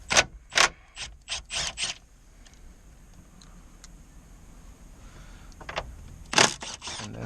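Ratchet wrench removing 10 mm bolts from the original stereo in a 1995 Plymouth Voyager, heard as a quick series of sharp clicking ratchet strokes, a quiet pause, then another short clicking burst.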